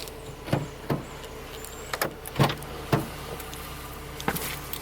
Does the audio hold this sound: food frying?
no